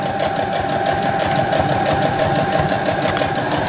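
A sewing machine stitches canvas tarp fabric with a zigzag stitch, a close, steady rapid mechanical chatter with a rhythmic clatter running without pause, no voices over it.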